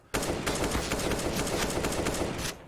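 Rapid AK rifle fire in Counter-Strike: Global Offensive during a pro match on the Train map, a dense, loud run of shots packed closely together for about two and a half seconds, with no pauses between bursts.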